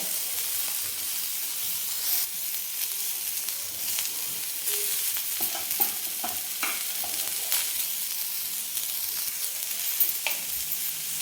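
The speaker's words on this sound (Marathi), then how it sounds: "एक मिडियम साईजचा एक कांदा मी उभा कापून घेतलेला आहे तो आपण भाजून घेणार आहे" A medium onion, sliced lengthwise, roasting in a pan after coconut, with a constant soft sizzle and hiss and occasional faint stirring scrapes, fairly quiet and close.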